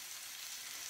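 Steady, faint high-pitched sizzling of shrimp frying in garlic in a pan, continuous and even with no voices.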